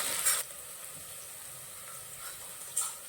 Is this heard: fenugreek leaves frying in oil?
yes